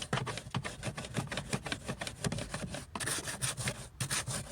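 A stiff brush scrubs a car's seat track back and forth in quick, steady rasping strokes, close and fairly loud, with no talking.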